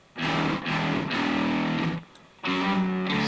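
An electric guitar runs through a Safari Pedals Dirty Dog overdrive and reverb plugin, playing distorted chords in two loud bursts separated by a short gap, with a reverb tail trailing off between them.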